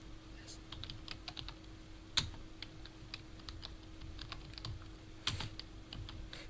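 Quiet clicking of a computer keyboard as a name is typed into Tally ERP9 accounting software, with brisk irregular keystrokes, a couple of sharper louder taps, and a steady faint electrical hum underneath.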